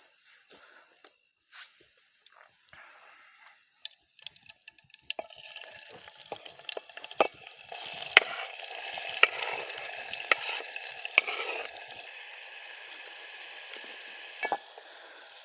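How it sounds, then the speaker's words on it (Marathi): Oil sizzles and crackles as tempering spices hit a hot pan on a wood-fired clay stove at a night forest campsite, sparse pops at first building into a denser, steady frying hiss with occasional sharp spatters. "आता लगेच फोडणी देऊया"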